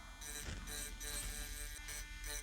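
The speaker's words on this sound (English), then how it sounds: "Now we are just trying to follow the outline as good as we can with our Dremel" A Dremel rotary tool buzzes steadily against glass while tracing an engraved outline, a continuous close whine with slight shifts in pitch as the bit moves, and no speech.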